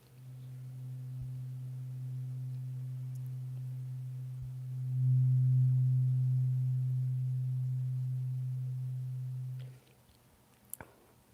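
A 128 Hz tuning fork hums as one steady low pure tone, swelling slightly about halfway through and then stopping abruptly near the end, with a faint click afterward.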